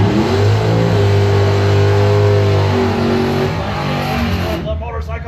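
Honda drag racing motorcycle at a Bowtie 2020 drag strip race, engine screaming at high revs as it accelerates down the track, loud and near, then fading away, with an announcer talking over it.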